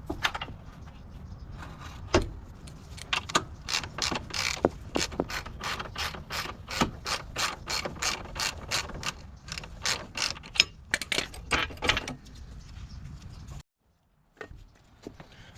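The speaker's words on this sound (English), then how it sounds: "I'll get the jack up in here, and we're just gonna push up on that." Rapid ratcheting clicks from a jack being worked under a car during a budget suspension replacement, a steady run of sharp mechanical ticks close by, with a brief pause near the end.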